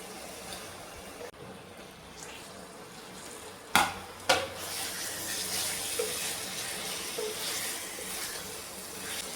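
Water poured into a pot of spiced curry with fried potatoes makes a quiet rushing hiss, with two sharp splashy bursts partway through before settling into a low, steady simmering wash.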